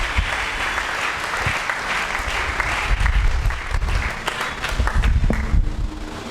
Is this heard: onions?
no